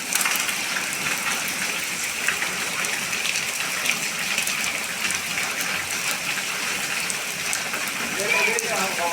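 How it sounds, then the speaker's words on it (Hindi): Steady rain falls in Jhansi, a continuous close hiss of drops on surfaces with splashing water running underneath, loud and even throughout, with a voice speaking over it. "देखिए दोस्तों, झांसी के अंदर बारिश हो रही है।"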